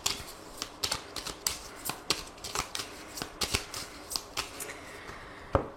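Lenormand cards being shuffled for a nine-card spread: a close, steady run of crisp riffling flicks and soft slaps, repeating roughly every half second.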